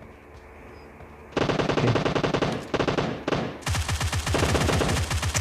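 Assault rifle gunfire in the PUBG video game: loud rapid automatic bursts, a first long burst, brief pauses, then further sustained strings of shots. A single short word is spoken just before the firing.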